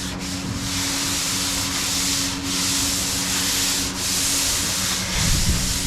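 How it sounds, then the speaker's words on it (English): Hand sanding on a car hood: continuous close, loud abrasive rubbing in long even strokes, with brief dips between passes, alone without any talking. "Just a little more sanding right there."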